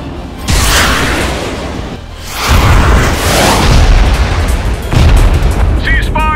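Booming explosions and gunfire in a dramatized military engagement, loud and repeated in heavy bursts across the scene, with a brief whistling tone near the end.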